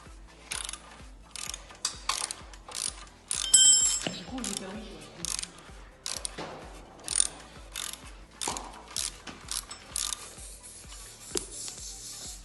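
Bicycle wheel being removed, the chain tensioner nut unscrewed by hand: a steady series of short, close ratcheting clicks and metallic mechanical ticks repeating throughout, with brief scraping in the middle.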